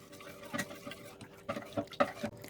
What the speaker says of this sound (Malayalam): ഇനി അരിപ്പൊടിയൊക്കെ കട്ട പിടിക്കാതെ നമുക്ക് മിക്സ് ചെയ്ത് കൊടുക്കാം